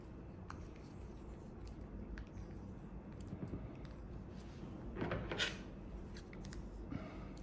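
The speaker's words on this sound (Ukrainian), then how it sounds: "Беремо ножиці і відрізаємо." Quiet snipping of scissors cutting through tape wound around batteries for a homemade emergency light, a few soft scrapes building to one sharper cut near the end.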